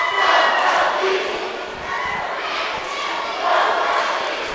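Packed gym crowd at a girls high school basketball game between Valdez and the Rams, a loud, continuous roar of cheering and shouting voices that swells at the start and again near the end.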